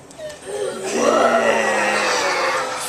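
A long, drawn-out belch that swells and rumbles for a couple of seconds, loud and close, with a grunting, throaty texture.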